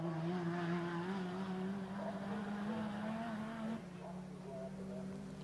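A touring car on a hot qualifying lap at Bathurst during the 1989 Tooheys 1000 top-ten shootout, its engine droning steadily at high revs and easing slightly near the end, heard under continuous commentary.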